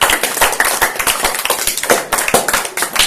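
Students at a school competition clapping for a team, close, loud and fairly sparse hand claps in an uneven rhythm, with individual sharp slaps standing out.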